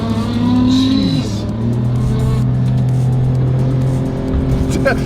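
A Toyota Hiace van fitted with an R35 GTR engine revs hard on a Tokyo street at night, a loud sustained engine roar with rising and falling pitch, close up, with a faint tyre squeal and no talk over it.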